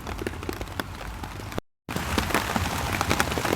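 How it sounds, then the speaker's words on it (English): Steady rain falls on a roundabout campsite in wet weather, a dense continuous patter filling the clip, broken once by a brief silent gap before resuming just as heavily. "it's still raining"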